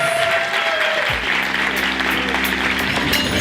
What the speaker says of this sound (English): Another round of applause for Tara Lampkins.